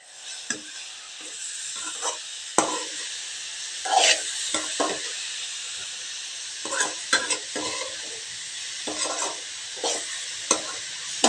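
Radish poriyal with grated coconut stirred in a pan: a steady sizzle under repeated scraping strokes of a spoon against the metal, irregular and close, with no voices.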